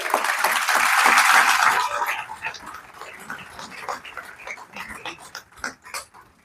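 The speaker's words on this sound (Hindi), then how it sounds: "बहुत तालियां।" An audience applauds at a book launch event. Dense clapping swells for about two seconds, then thins into scattered claps, and voices are heard murmuring underneath.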